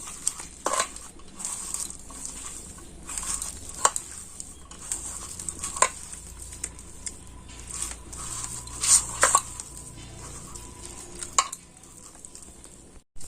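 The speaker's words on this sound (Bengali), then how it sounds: "এবার এটাকে আমি ভালো করে মেখে নেব হাত দিয়ে" Hands knead a prawn chop mixture with baking soda in a kitchen, making soft wet squelches, scattered clicks and taps from a bowl, and quiet, irregular, close-up mixing noise with no talking.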